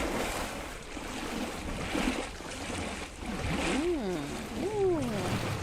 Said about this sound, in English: The walking through the water is so loud that it kind of masked whatever I was supposed to hear.